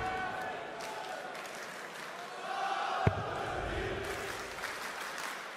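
Crowd noise from spectators at a PDC darts tournament venue, a broad roar with a brief sharp peak partway through, mostly heard under a commentator's voice.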